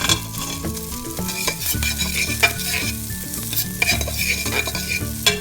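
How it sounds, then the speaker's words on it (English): Steady sizzling and crackling of Puerto Rican salami stir frying in a pan in its own oil, with occasional scraping stirs, continuous and close. "I put it in the pan and it's stir frying."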